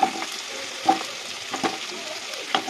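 Chopped potatoes sizzle in oil in a pan, with several distinct scraping stirs punctuating the continuous frying hiss, heard up close.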